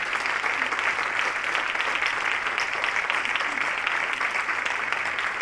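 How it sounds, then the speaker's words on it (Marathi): Loud, sustained applause from a live audience honouring Pandit Sharad Bapat at a music performance, a dense even patter of many clapping hands throughout with no break. "पंडित शरदजी बापट, त्यांच्यासाठी एकदा टाळ्या वाजवल्या जोरदार."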